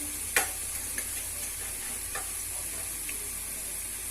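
Mustard seeds fry in hot tempering oil after onions, giving a faint steady sizzle with a few small sharp pops scattered over a quiet background.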